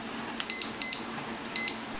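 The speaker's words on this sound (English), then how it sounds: "I'm going to run this timer for 10 minutes." A kitchen timer set for ten minutes while baking BBQ chicken quesadillas gives three short, bright electronic beeps at close range, separated by brief gaps, over a low steady room hum.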